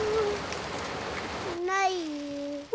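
Steady rain hisses down in an animated children's cartoon for about a second and a half, then a child's high, wavering voice rises over a quieter background.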